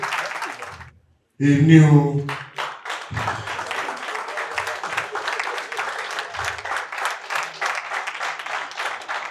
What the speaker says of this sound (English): Can I have a round of applause for him?